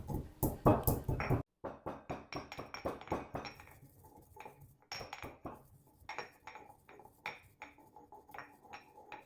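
Black pepper and cumin seeds pounded in a mortar, a steady run of sharp, close knocking strikes with clinking, loud at first, then lighter and more spaced out after a brief pause.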